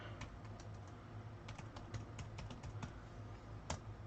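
Quick bursts of clicking on a computer keyboard, typed fast at close range in short runs, quiet and steady against a low background hum, with no talk.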